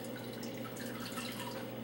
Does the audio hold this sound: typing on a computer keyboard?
no